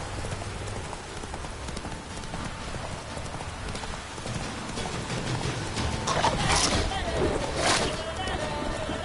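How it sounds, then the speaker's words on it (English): Hooves clip-clop at a gallop from a horse in The Witcher 3, rhythmic and fairly close, with rain-like hiss behind and a voice calling over the hoofbeats. "Whoa there, Roach."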